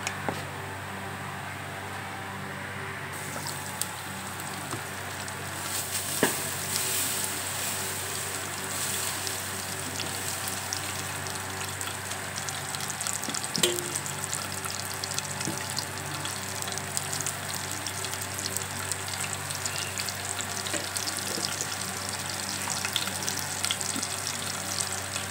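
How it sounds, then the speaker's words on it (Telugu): Onions, green chillies and tomatoes fry in oil for a Telugu okra pulusu, a steady broadband sizzle running throughout with a few brief clicks and no talking. "చూడండి, ఉల్లిపాయలు, పచ్చిమిరపకాయలు, టమాటాలు, పచ్చిమిరపకాయలు వేద్దాం."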